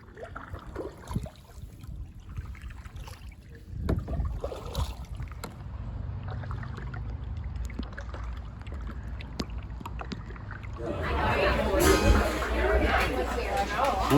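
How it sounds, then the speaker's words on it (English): A kayak paddles along narrow side canals off a main river, with soft water trickles and paddle splashes that grow louder and busier toward the end. "Just paddling out into these little"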